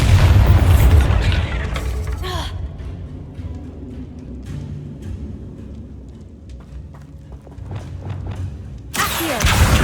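A blasting-spell explosion: a heavy boom bursts at the start and rumbles away, scattered crackling debris follows, and a second loud burst erupts near the end.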